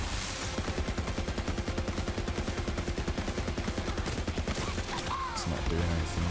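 Sustained rapid automatic gunfire in the shooter video game Borderlands 3, played as the character Zane on PC, a steady loud stream of shots with little pause.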